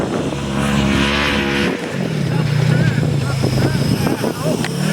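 A 1000cc race Polaris on a rally track revs hard and close, a loud engine note that drops after a gear change and then climbs again amid gravelly tire noise, with voices talking over it.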